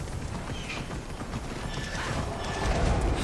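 Horse hooves clop steadily up a flight of stairs in the video game Immortals Fenyx Rising, a dense, continuous patter with a whinny mixed in, growing slightly louder toward the end, with no talk.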